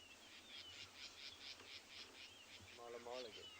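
Birds call at sunrise on a Tswalu safari, among them southern black tits and rattling cisticolas, with faint repeated chirps and a short trilling call in quiet open air.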